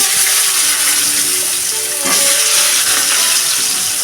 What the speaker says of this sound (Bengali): এবার আমি সবজিগুলো সব দিয়ে দেবো